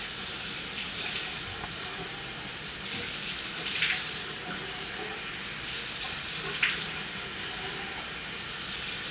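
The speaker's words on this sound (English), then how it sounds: "So I'll splash it up here about 3 or 4 times to make sure it's nice and wet." Warm water is splashed by hand onto skin over a running tap or sink, a steady watery hiss with a few sharper splashes breaking through.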